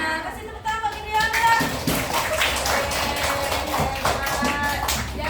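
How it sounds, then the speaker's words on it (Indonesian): Children in a first-grade mathematics classroom clap together, a burst of sharp overlapping hand claps that rises quickly and continues as a loose patter, with voices talking over it. "Kasih tepuk tangan bagi Gideon."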